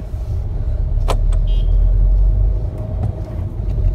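A car climbs a basement parking ramp in first gear, its engine giving a steady low rumble with a brief mechanical click partway through.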